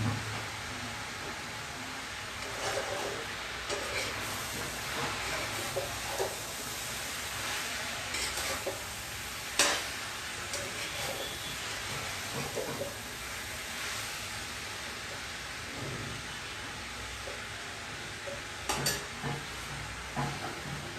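Food frying in a pan for a Bengali home meal of dal, greens and mashed potato, a steady broadband sizzle with scattered clinks and stirring scrapes, fairly close and continuous.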